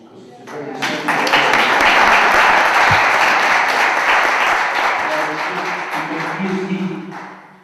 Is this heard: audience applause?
yes